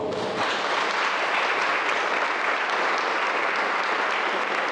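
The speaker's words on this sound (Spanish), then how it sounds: "Un aplauso para vos." A church congregation breaks into applause during a sermon, a dense, even roar of clapping that starts abruptly and stays loud and steady throughout.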